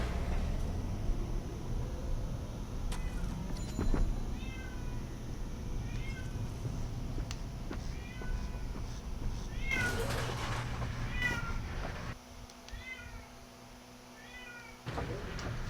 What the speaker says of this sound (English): There is a cat that is yowling over there